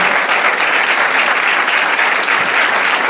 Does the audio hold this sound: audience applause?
yes